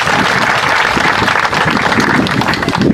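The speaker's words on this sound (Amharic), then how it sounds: "ምስጋና ጭብጨባ ያስፈልጋቸዋል" A crowd applauds at an outdoor project inauguration ceremony in Gerese Zuria district of Gamo Zone, Ethiopia, with dense, sustained clapping from many people holding at a loud, steady level for the whole stretch.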